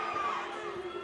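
Women in a wrestling show crowd cheer and shriek together, a dense, loud burst of high voices that carries through the whole short moment.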